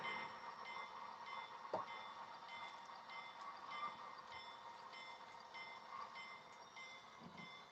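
A model train locomotive's ESU sound decoder, run under DCC, plays a steady mechanical hum with a repeating pulsed tone, plus a couple of brief clanks, quiet and close.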